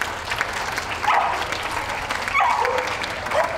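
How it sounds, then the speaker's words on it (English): Steady applause from a dog show audience as Pastoral group dogs such as Pembroke Corgis leave the ring, a dense continuous clapping with a few faint dog sounds and a distant voice. "Round of applause for all those leaving the ring."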